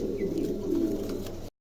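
King pigeons offered for sale coo in soft, low, throaty murmurs that roll on continuously at close range, with faint chirps above. There is no talk, and the sound cuts off abruptly at the end.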